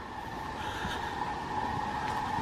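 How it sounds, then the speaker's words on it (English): A steady rumbling roar of a tram rolling past on the Royton branch line, continuous and fairly loud, with a faint high whine over the low rumble. "here's a tram coming"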